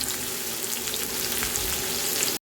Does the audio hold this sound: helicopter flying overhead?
no